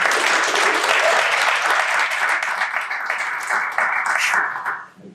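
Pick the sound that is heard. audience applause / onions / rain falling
audience applause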